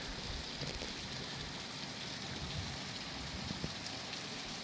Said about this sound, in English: I'm looking out the window of my hotel. It's raining.